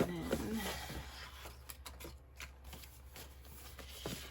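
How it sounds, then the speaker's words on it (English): Sheets of scrap paper and die-cut leftovers being handled and sorted, giving a soft rustling and flicking with light papery rattles throughout, close and fairly quiet. "More papers that have been cut into, so those can just go right into my scrap"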